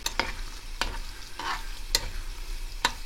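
Onions sauté in a pan with a soft sizzle, punctuated by several crisp taps and scrapes of a utensil stirring at irregular intervals; no talking.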